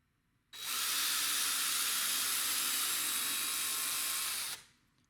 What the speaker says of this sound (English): So just drill out the new holes.